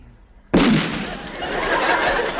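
After half a second of near silence, a sudden loud explosion bursts out, followed by a long roaring, crackling rumble that stays loud to the end.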